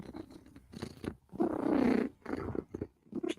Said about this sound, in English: if cat is purring, cat is a happy, happy girl